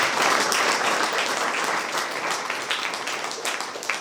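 Sustained applause from a congregation at a Holy Mass in Bishrampur, dense steady clapping at moderate distance that gradually thins toward the end.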